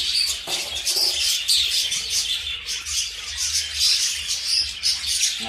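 Rainbow budgerigars in a breeding aviary chirping, many bright chatters and tweets overlapping continuously and fairly close, with no talking.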